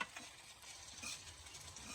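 Fish and fish roe frying in a home kitchen, giving a continuous moderate sizzle with faint scraping and stirring clicks over a short stretch.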